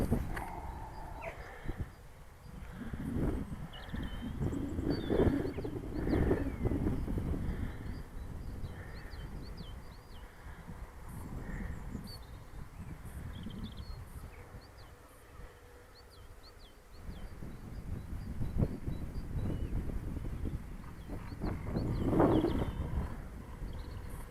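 Wind gusts outdoors at an RC glider flying field, rising and falling in broad rushing swells of buffeting noise, with a quieter lull in the middle before it picks up again.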